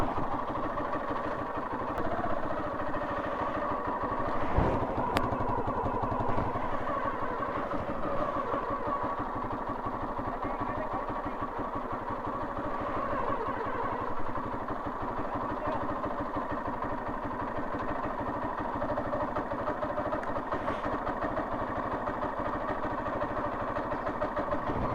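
A motorcycle idles steadily on a hillside village road in Uttarakhand, its engine holding an even, throbbing rumble close by for about twenty-five seconds with a few small revs and knocks.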